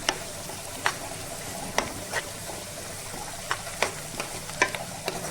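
A spatula stirs a carrot and beetroot fry with coriander in a pan, tapping and scraping at irregular intervals over a continuous light sizzle. The sound is close, with no talking.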